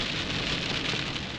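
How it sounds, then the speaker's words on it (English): Steady, dense downpour of heavy monsoon rain at an RV base camp, a continuous broadband hiss with no gaps, moderately loud throughout. "Look at all the rain."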